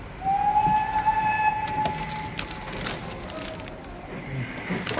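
A steam train running, with a long whistle near the start followed by a steady rolling rumble and clanking of the carriages.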